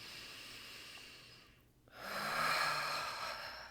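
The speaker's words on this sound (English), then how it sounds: "Closing your eyes, taking a deep breath." A slow, deep breath is drawn in and let out softly, a faint airy hiss that dips into a brief pause before rising into a longer, fuller exhale, alone in a quiet room.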